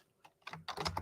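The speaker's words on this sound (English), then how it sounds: "sorry about the sound on the keyboard" Computer keyboard keys clatter in a quick, close burst of typing, starting with a few scattered taps and building to a dense flurry of clicks.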